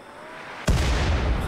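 A single loud artillery shot fires in the video game RimWorld, a sudden heavy boom after a quiet start, followed by a sustained rumbling roar that fills the rest of the moment.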